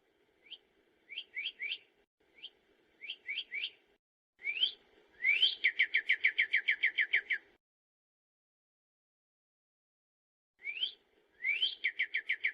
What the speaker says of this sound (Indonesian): seekor ceruk kuning bernyanyi-nyanyi dari dahan pohon itu